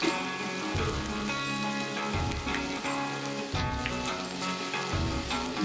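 Oyster mushrooms sizzle and crackle in a hot stir-fry pan alongside cattail hearts, a steady bright frying hiss with soft rhythmic stirring scrapes and no talking.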